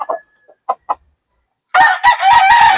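A Sweater-breed gamecock rooster gives several short, loud, close clucks, goes briefly quiet, and then lets out a full, harsh crow.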